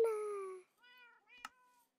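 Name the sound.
cat meowing in video game My World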